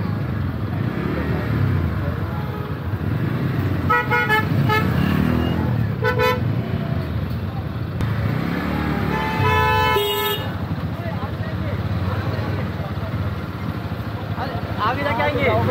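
Heavy weekend traffic near Amboli waterfall, with cars parked on both sides, rumbles steadily while several car horns toot in short bursts; someone talks over the engine noise and rain-soaked road hiss.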